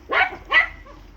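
A dog barking on command indoors, two sharp close barks in quick succession followed by a faint short whimper.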